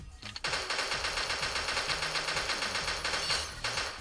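Rapid automatic fire from the Hellraiser gun in the Pixel Gun video game rattles in a fast, steady burst for several seconds after a brief start, crisp and continuous.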